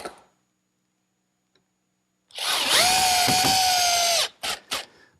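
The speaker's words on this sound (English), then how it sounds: "I'm just bolting them together with some 6-inch lag screws." A power drill drives a 6-inch lag screw into a wooden garden gate post. It whines loudly and steadily for about two seconds, then gives two short follow-up bursts, and no one speaks.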